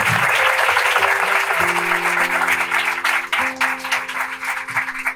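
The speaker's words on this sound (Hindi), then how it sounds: "अगर खुश हैं तो जोरदार ताली लगाएं पाकरू के लिए" A church congregation bursts into loud, sustained applause that fills the room steadily, with sustained musical tones playing underneath.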